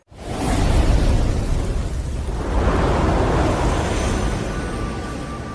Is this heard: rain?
no